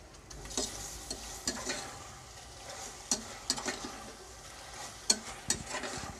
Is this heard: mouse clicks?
no